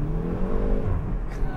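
A Hyundai i30 Fastback N hot hatch pulls hard out of a corner, its engine note droning loud and close with a steady rumbling tone that rises as it accelerates.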